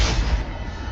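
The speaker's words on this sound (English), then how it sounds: "This explosion is not accurate." Explosion effect in an animated scene about a mutating virus: a loud, sustained low rumble with broad noise that fills the whole second and fades only slightly.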